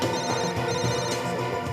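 A mobile phone rings with a repeating electronic ringtone, steady and moderately loud, with no talking over it.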